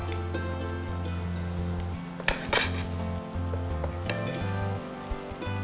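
Rice with tomato, salt and soy sauce frying in a pan, giving a steady close sizzle with a low hum underneath and a few sharper clinks of a utensil against the pan.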